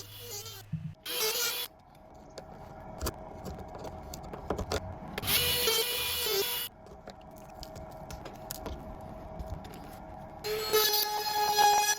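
A small rotary tool cuts through the belly band bolts on a Trillium trailer in bursts of harsh, high grinding shriek, separated by quieter stretches of handling and scraping.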